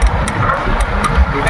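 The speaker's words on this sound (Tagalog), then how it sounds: "Oh, ayun oh, may traktora." Tractor engine running nearby on a hillside, a steady mid-to-low rumble with a faint vibrating drone throughout, heard alone without talk.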